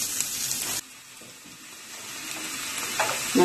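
Onions sauté lightly in a pan for idli batter bondas, giving a bright sizzle that drops abruptly to a quiet simmer and then slowly rises again, with a few stirring clinks near the end and no talk.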